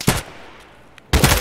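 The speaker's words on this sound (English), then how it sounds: "He shot me in the head." Two loud close gunshots in a video game, a sharp blast at the start and another a second later, separated by a quiet gap.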